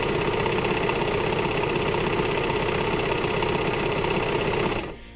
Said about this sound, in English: there's more stuff to serge if you're doing the no elastic version